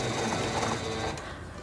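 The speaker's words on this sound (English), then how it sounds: "Now I'm going to press and hold the reverse button to sew backwards a few stitches." A SINGER Stylist 7258 computerized sewing machine stitching backwards in reverse, a steady close whirring hum of rapid stitching that runs without pause and softens slightly near the end.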